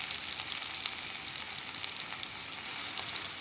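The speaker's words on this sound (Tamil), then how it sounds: "அந்த பிரண்டையை எடுத்துகிட்டு எண்ணெய் காஞ்சதும் அதில் போட்டு முதல்ல நம்ம நல்லா வதக்கி எடுத்துக்க போகிறோம்" Adamant creeper (pirandai) fries in hot oil, giving a dense, even hiss of sizzling with faint crackles throughout, close and unbroken, no voices.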